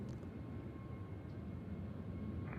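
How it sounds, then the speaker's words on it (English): WestJet airliner taking off at Nashville International Airport, a steady distant engine roar with broadband rumble holding level throughout, no voices. "We got WestJet taking off."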